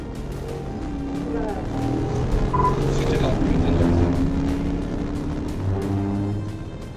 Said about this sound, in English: The vehicle accelerated northbound, reaching speeds of approximately 85 miles per hour, as the trooper maintained close distance and relayed updates.